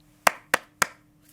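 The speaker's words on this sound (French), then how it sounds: "me contenter de quelques applaudissements indifférents" Three sparse, unenthusiastic hand claps ring out alone at even intervals, each a sharp crack with a quick decay, followed by silence.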